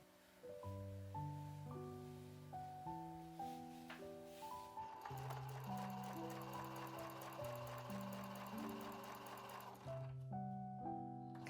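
A sewing machine stitches fabric for a slim square shoulder bag, running in a fast continuous whir through the middle, faint beneath a melodic background music track that plays throughout.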